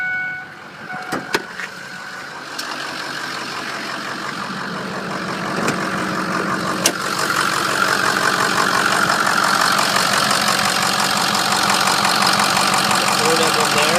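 A 2005 Ford F350 diesel 4x4 pickup with 91,260 miles idles with a steady clattering rumble that grows fuller as the hood opens, after a few clunks and knocks at the start.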